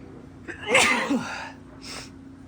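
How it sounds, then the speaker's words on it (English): A single sharp sneeze bursts out close by in a dusty space, with an indrawn breath before it, followed by a brief softer exhale. "Hold on, I gotta sneeze."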